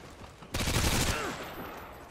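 Automatic fire from an ACR assault rifle in the video game Modern Warfare 2, Team Deathmatch on the Skidrow map: a sudden loud burst of rapid gunshots lasting about half a second, followed by a decaying ring of game ambience.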